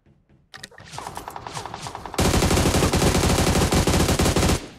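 Bursts of automatic gunfire in the mobile shooter game BGMI, starting with scattered shots and then a loud, sustained rapid stream lasting a couple of seconds, close and dominant with no talk.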